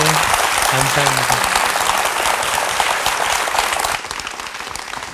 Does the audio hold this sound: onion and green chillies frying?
no